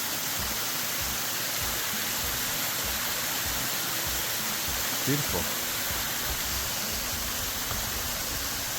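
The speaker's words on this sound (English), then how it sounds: "Oh, gorgeous waterfall here." Waterfall seen from a bridge on a forest trail: a steady, broad rushing roar of falling water fills the background throughout, with a person briefly speaking over it.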